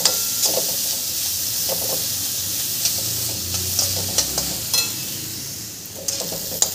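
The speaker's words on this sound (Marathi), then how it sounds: "आता या भाज्या पण आपल्याला 2-3 मिनिटं हाय फ्लेमवर परतून घ्यायच्या आहे छान।" Vegetables for veg fried rice stir-frying on a high flame, a continuous hissing sizzle with frequent scraping and clinking of a spatula tossing them in the pan, close and steady, no voices.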